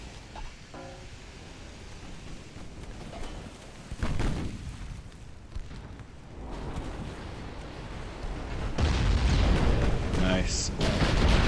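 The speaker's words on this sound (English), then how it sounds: "Another couple of volleys should do the trick." Battleship main guns fire volleys during a naval battle in Ultimate Admiral: Dreadnoughts, deep booming blasts and rumbling shell impacts swelling over a constant low roar, growing louder toward the end with splashy crackling bursts.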